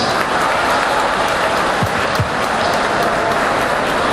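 Steady, dense applause from a conference audience, loud and continuous across the whole stretch with a couple of brief thuds mixed in.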